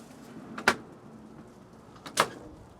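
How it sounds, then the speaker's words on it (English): Two sharp slides with a clunk of a heavy-duty pull-out storage drawer with handles in a Sprinter camper van build, the second locking into place, close up with quiet room tone between. "the nice big heavy duty pull-out drawer slide with some handles"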